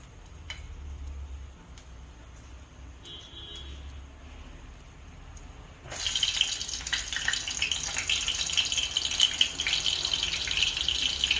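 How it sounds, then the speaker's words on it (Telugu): Water squeezed out of chopped bitter gourd in a home kitchen begins as a faint background hush, then becomes a sudden steady trickle and splatter with small ticking drips that run to the end. "సో ఇలాగా స్క్వీజ్ చేస్తే చూసారు కదా వాటర్ అయితే వస్తూ ఉంది."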